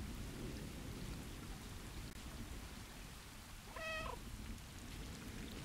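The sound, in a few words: heavy rain in the video game Stray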